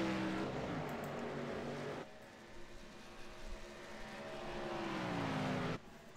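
A race truck doing a victory burnout after winning the Texas 120, a loud sustained engine roar with shifting revs that drops away and then surges again, heard alone without talk.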